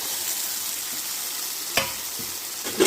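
Okra is tipped into a pan with spiced yogurt and fried prawns, setting off a loud, steady sizzle with a couple of soft thumps as the pieces land.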